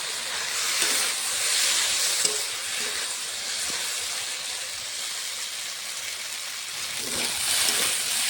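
Malabar spinach and pumpkin stems fried with potato in a pan give a steady, fairly loud broadband hiss of sizzling oil throughout, swelling slightly near the end, with no talk.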